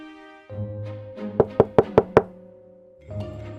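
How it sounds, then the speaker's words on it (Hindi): A door knocked on in a Hindi domestic drama scene: five sharp, evenly spaced raps, close and loud, over a steady musical backdrop that drops out briefly around them. "तभी दरवाजे पर दस्तक होती है।"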